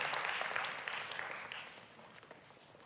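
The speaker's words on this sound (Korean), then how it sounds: "크게 한번 박수 한번 해주시면 인사하고 들어가시겠습니다." A church congregation at a Sunday worship service claps together after a prayer, a faint, fairly distant ripple of applause that gradually thins out over a few seconds.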